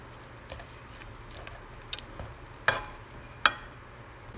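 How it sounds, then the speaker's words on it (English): Apple kheer being stirred: cooked apples and fried nuts worked into milk, with soft wet swishes and a couple of sharper spoon taps against the pot, fairly quiet and close, no talk. "mix all together"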